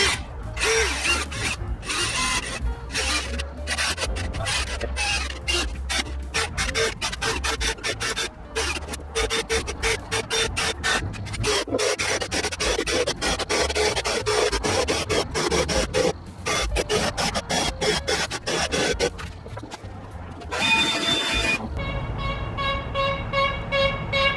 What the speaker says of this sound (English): Using a 30 bit to go ahead and run my holes all the way through.